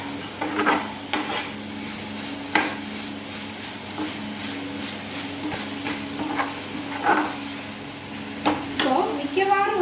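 Masala stir-fried over a raised flame for a ghee rice and masoor dal meal gives a steady close sizzle, with repeated scraping stir strokes and clinks of a spoon against the pan and no talk.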